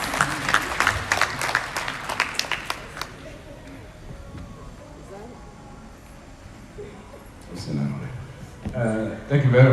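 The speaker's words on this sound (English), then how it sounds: "I tried to make it dramatic, so please, your clapping should be dramatic." Audience applause at a book launch held at an academy, a burst of clapping for the first few seconds that fades into low room murmur, with voices rising near the end.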